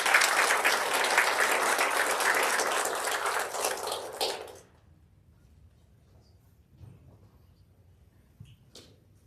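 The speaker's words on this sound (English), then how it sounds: "can we just have one last round of applause for those" An awards ceremony audience applauds graduates for several seconds, the crowd clapping loud and dense before stopping abruptly, leaving a quiet room with a few faint knocks and shuffles.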